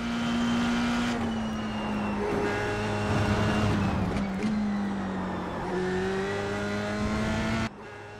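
Sim racing game car braking hard and downshifting, the engine note blipping up and dropping repeatedly over about eight seconds, loud and continuous with sharp gear changes.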